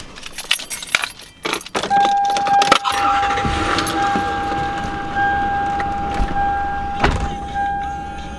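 A Lexus LS400 idles steadily after a repaired faulty ECU, a low continuous engine hum under a whining tone, with keys jangling and clicks near the start.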